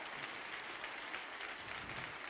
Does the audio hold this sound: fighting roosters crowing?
no